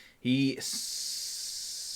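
A voice imitates a steaming kettle, giving a short buzzing hum that breaks into a long, steady breathy hiss held close and alone.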